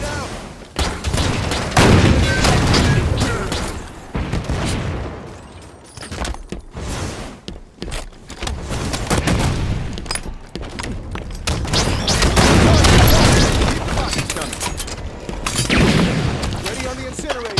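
Dense, continuous gunfire and explosions from a Halo 5 Super Fiesta match on the Furnace map, loud and relentless throughout with thuds and booms layered together, and voices talking over the combat.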